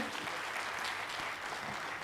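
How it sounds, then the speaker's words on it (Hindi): Audience at a real estate summit giving loud, dense applause for the panelists, a continuous close wash of clapping with no talk. "तो एक बार जोरदार तालियां हमारे सारे पैनलिस्ट के लिए पहले"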